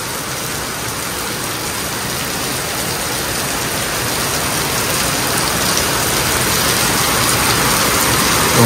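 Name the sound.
heavy rain falling on house roof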